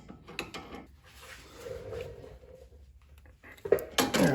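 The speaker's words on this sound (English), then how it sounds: "use the small one here to hold it in place, and then we'll break the jam nut loose with this one" Two crescent wrenches on a Mustang's steering tie rod break a jam nut loose, with a few sharp metallic clinks, a quiet strained pause, then a loud clank and rattling of metal at the end.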